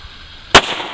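A single sharp handgun shot cracks loud and close at mid-clip during firearm handling instruction, with a brief ringing tail after the blast.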